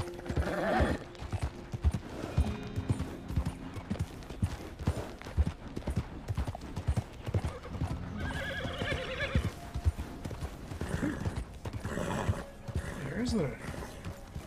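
A horse in the video game Red Dead Redemption II clops along with steady hoofbeats and gives several loud whinnies, while someone talks over the sounds.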